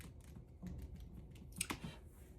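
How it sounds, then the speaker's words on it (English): Quick keystrokes on a computer keyboard, a short soft burst of clicks with a couple of sharper taps near the end, close and quiet. "I'm going to type in marble, black marble"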